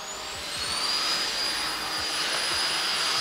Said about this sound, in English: let's go and try the Bosch vacuum